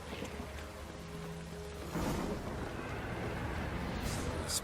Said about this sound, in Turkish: Yağmur yağması da iyi olmuş.